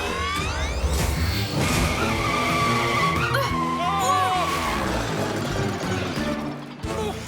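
A runaway cartoon turbo-tire racing model skids loudly with screeching tire squeals and engine whine, set over dense background music and effects throughout.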